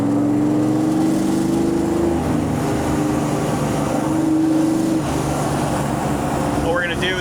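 A 1957 Chevrolet 150 post sedan running an aggressive high-power build revs as it downshifts, its loud, steady engine drone rising and easing in pitch, with a voice talking over it.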